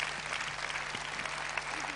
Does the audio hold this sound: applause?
yes